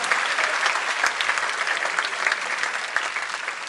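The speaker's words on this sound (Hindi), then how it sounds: "इस बात पर एक बार जोरदार तालियां बजनी चाहिए।" Audience at a poetry recital breaks into steady, fairly loud applause, a dense continuous patter of many hands clapping from start to finish, with no voice over it.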